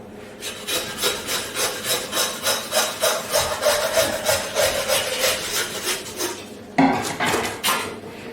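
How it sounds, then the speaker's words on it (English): A butcher's saw cutting through pork to separate loin from belly: steady rhythmic back-and-forth rasping strokes, about two per second, close and loud, with a brief pause and shift before sawing resumes. "So you go straight along, like this, and literally just saw."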